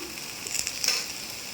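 Ridge gourd frying in a pan, a steady close hiss of sizzling oil with a few brief stirring scrapes and crackles.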